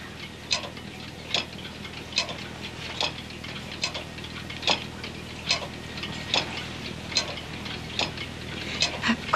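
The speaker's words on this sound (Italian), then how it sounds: "Questo è un orologio d'acqua, un esemplare unico," An antique nineteenth-century water clock ticks in a slow, regular beat of crisp clicks about once a second, set against a low, steady room hum.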